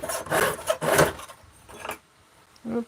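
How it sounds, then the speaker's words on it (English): A worn saw blade cutting copper gives two close, harsh rasping strokes, then a fainter stroke and a short final scrape, separated by quieter gaps. "The blade making more noise is telling me that"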